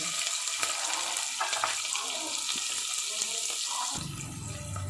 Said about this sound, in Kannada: ನಾನು ನೀರುಳ್ಳಿ ಹಾಕ್ತೀನಿ ಅದಕ್ಕೆ ಸ್ವಲ್ಪ ಫ್ರೈ ಆಗಬೇಕು